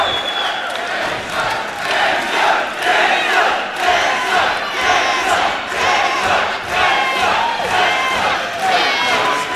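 Spectators at a racquetball match cheer and shout loudly in a sustained, surging roar of mixed voices and whoops.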